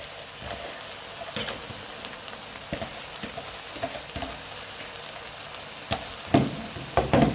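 Yam and vegetables frying in a pot with African oil bean seed, stirred: a steady close sizzle broken by scraping spoon strokes and light clanks, growing busier near the end.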